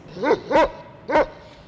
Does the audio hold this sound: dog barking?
yes